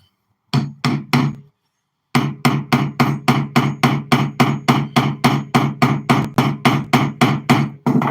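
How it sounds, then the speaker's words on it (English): Heavy rhythmic pounding: three quick thumps, a pause, then a long steady run of dull ramming blows packing kitty litter tight into a solid plug. "When I ram this kitty litter, that'll form a solid plug."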